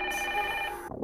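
A telephone rings steadily in a police chief's office at night, part of an audio-only interactive detective game, a sustained bright electronic trill that cuts off at the end.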